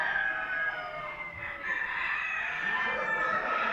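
Ornamental chickens at a poultry show in Afyon crow and cluck nearby, with several birds calling over one another in a busy indoor hall.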